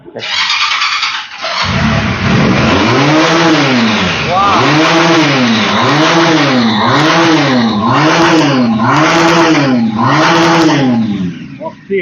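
A Pilder motorcycle revs up loudly and close by, its engine note swelling and falling in a steady series of repeated throttle blips after a quiet start, with no talk over it.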